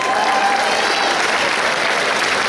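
Enthusiastic crowd applause at a sci-fi convention's junior cosplay competition, a loud, dense, unbroken roar of clapping filling the hall with no gaps.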